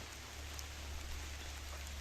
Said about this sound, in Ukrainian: На вулиці почався знов сильний дощ, лиє.